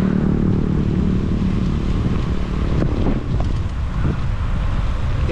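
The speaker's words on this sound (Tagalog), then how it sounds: "lamig tapos mahangin pa" Wind buffeting the microphone during a cold motorcycle ride on the Tagaytay loop, a steady loud low rumble with engine and road noise running throughout, no talking.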